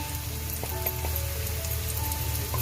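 Onion and tomato fry in a pan as turmeric is added, a soft steady sizzle with faint crackles close by, accompanied by low tonal background hum, no voices.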